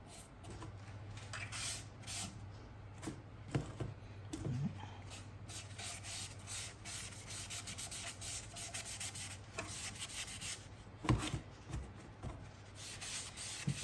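Hand sanding a wooden bowl with a Sandaflex block: a soft, continuous scratchy rubbing close by, with irregular strokes and faint knocks, and no talking.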